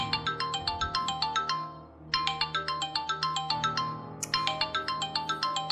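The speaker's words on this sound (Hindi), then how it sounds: "बार बार मुझे फोन किए जा रहा" A phone ringtone plays a quick, repeating chiming melody in bursts, fairly clear and steady with no talking.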